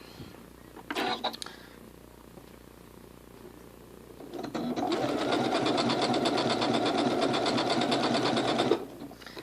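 A Janome Skyline S7 sewing machine runs steadily for several seconds stitching a decorative heirloom stitch, a loud close whirring hum after a few brief clicks and handling noises.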